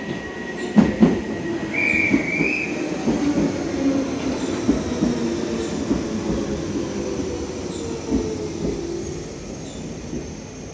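A Central Line underground train at Stratford station rumbles along the platform with rolling wheel noise, a brief high squeal and a few clanks, steady and moderately loud.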